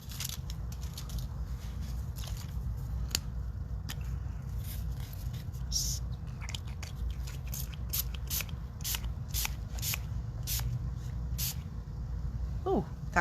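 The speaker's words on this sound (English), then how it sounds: "You want to mix a white spray with it?" White spray paint is sprayed onto a craft project in short hissing bursts of varying length, repeated irregularly at close range over a low background rumble.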